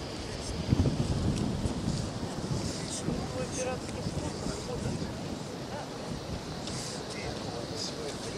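Wind gusting steadily across an open seaside park at a Black Sea resort, a broad rushing roar with buffeting against the microphone throughout.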